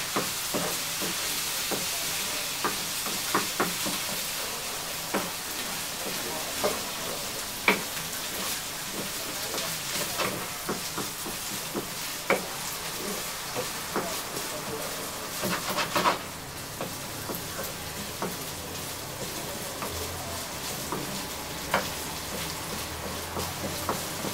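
Rice for a mushroom risotto sizzles and crackles steadily in a hot pan as added alcohol steams off. A continuous fry hiss with scattered pops and occasional stirring scrapes runs throughout, with faint talk now and then.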